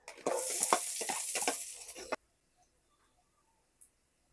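Garlic sizzles loudly in leftover pork oil for ginisang monggo, a dense crackling hiss with stirring scrapes for about two seconds, then cuts off to near silence with one faint tick.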